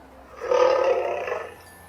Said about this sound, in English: This lion is brown.